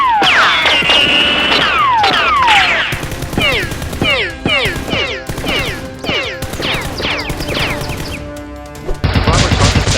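Nerf foam-dart guns shoot in a staged SWAT-versus-robber fight, repeated sharp snapping shots in quick succession, loud and close, over dramatic background music with sweeping effects.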